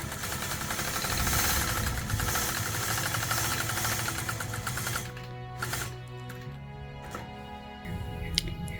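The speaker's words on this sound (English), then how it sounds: "gentle pressure on my rulers, engage my machine, and I'll complete my 3-inch circle" A sewing machine runs continuously while quilting a 3-inch circle with a Sway ruler. Its steady, dense motor hum drops to softer, intermittent stitching toward the end.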